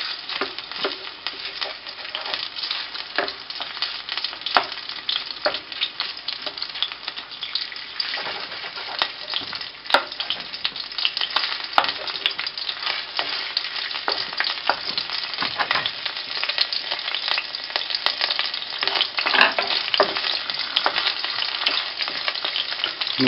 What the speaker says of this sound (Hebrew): ואת השומן אני כבר יכול לשים במחבת עם השמן.